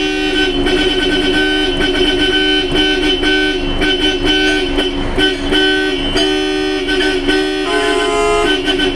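Loud, close Bosch Europa car horns blare in a rapid series of honks, with a sustained two-tone blast near the end.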